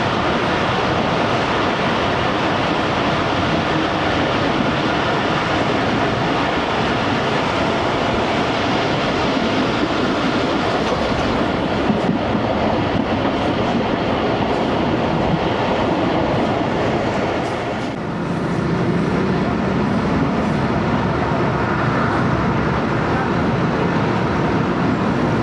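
Pakistan Railways' Jaffar Express runs steadily near Renala Khurd station, a continuous loud rumble of wheels and carriage noise with a brief dip in level partway through before the rolling roar resumes.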